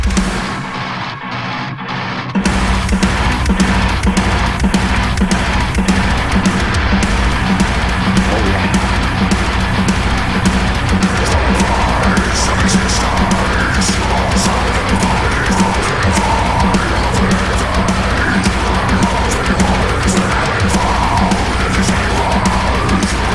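Loud, dense metal track, opening with a brief quiet moment before heavy distorted guitars and pounding drums crash in and drive on without pause.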